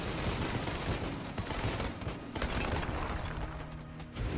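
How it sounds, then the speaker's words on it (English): Rapid bursts of explosions and gunfire in the twin-stick shooter Enter the Gungeon crackle densely and loudly, a continuous chaotic barrage with mechanical clatter. "Let's create some explosions."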